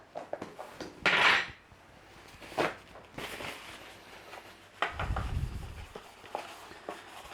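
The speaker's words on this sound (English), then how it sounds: "I'm just going to grease it out with a little bit of butter" A metal loaf tin being greased with butter for a crusty farmhouse loaf: scattered clanks and scrapes of the tin being handled, one sharper metallic clatter early on and a dull thump later, fairly quiet with no talk.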